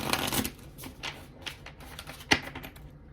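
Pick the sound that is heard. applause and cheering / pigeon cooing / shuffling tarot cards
shuffling tarot cards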